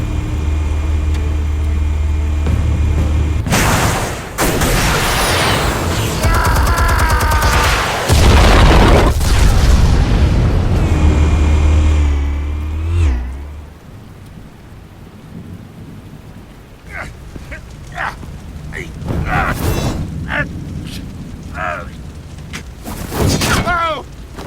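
Explosives go off in a Batman video game, heavy rumbling booms and crackling blasts filling the first half loudly, then sharper intermittent impacts with game voices speaking between them.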